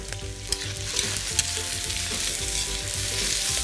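Onion, garlic, carrots and potatoes sautéing in generous hot oil in a hot pan, a loud, steady close sizzle broken by a few sharp stirring clatters, with no talking.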